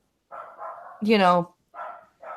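Dogs barking at home during a Star Trek livestream: a close, loud burst of sharp barks with one drawn-out, higher yelping bark in the middle, each separated by brief silences.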